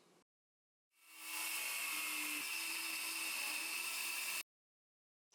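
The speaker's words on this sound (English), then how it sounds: "I used my circular saw and Craig rip cut to rip down a couple sheets of plywood to about 16 inches wide" Circular saw ripping plywood sheets into narrow strips with a rip-cut guide, a loud sustained high whine lasting a few seconds, starting and stopping abruptly.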